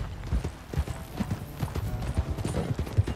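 Horse hooves clip-clop at a steady riding gait in Red Dead Redemption 2, a brisk even rhythm of close hoofbeats running from start to finish with no talk over them.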